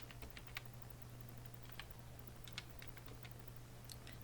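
Light keystrokes on a computer keyboard entering a Windows command, faint scattered clicks in small clusters over steady background hum and hiss.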